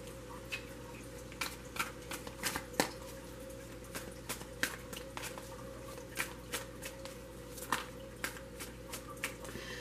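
A deck of tarot cards is shuffled in a quiet room, giving soft, repeated riffling taps and flicks at an uneven rhythm, close and gentle throughout.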